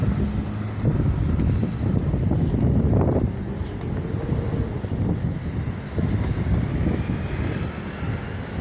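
Steady rumbling wind buffets the microphone on a sunny day in Beşiktaş, Istanbul, near Akmerkez, a broad roaring noise with gusty swells and a faint distant hum in the background.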